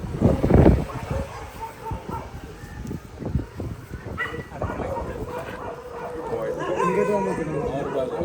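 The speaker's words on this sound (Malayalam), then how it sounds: "സോ അവൻ ഇവിടുന്ന് അവരെ നോക്കി നല്ലോണം ബാർക്ക് ചെയ്യുന്നുണ്ട്" A pet dog barking from its spot at a group of Indian street dogs, with a loud close bark at the start followed by scattered yips and whines amid background chatter and street noise.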